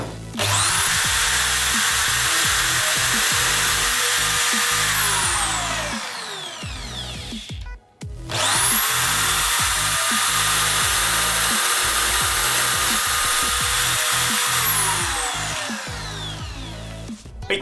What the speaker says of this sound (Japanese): 真ん中に穴を開けたいと思います。